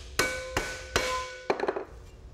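A mallet strikes an aluminum sheet resting on a sandbag, four heavy, ringing blows at a steady pace followed by a quick flurry of lighter taps, close and loud with a metallic tone.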